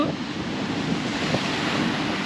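Sea water churns and bubbles continuously in a nearby rock pool, mixed with gusty wind rumbling against the microphone.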